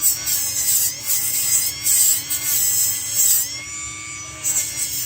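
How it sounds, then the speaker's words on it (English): A high-pitched rotary dental-style bur whirs in short bursts as it trims and smooths the edges of a plastic Essix aligner, close and fairly loud with grinding rubs between passes. "And this will trim down a little bit more plastic."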